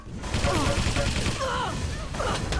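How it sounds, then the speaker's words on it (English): Rapid bursts of rocket fire and explosions in a Quake match, dense and loud, layered over constant game action with continuous crackling impacts. "Oh my god, look at those rockets!"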